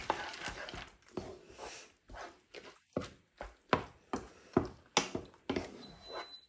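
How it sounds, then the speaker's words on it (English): A pressure cooker, used for cooking potatoes for shepherd's pie, signals it is done with a steady series of sharp, evenly spaced puffs of hissing steam, about two per second, close and fairly loud. "That's my pressure cooker. It's done cooking."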